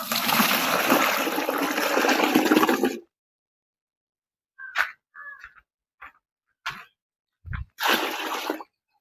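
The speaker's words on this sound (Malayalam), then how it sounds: "കുറച്ച് വേസ്റ്റുകൾ അത് നമുക്ക് അതിനകത്ത് ഒഴിക്കാം." Kitchen waste poured into a home biogas plant gives a loud, sustained watery gush for about three seconds, followed by a few short splashes and sloshes, close by.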